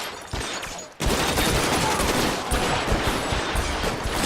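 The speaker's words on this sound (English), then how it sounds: "Is he firing single shots of a Thompson?" Thompson submachine gun fire in the video game L.A. Noire, a loud burst of rapid shots crashing in after a short quieter lead-in and continuing as dense gunfire.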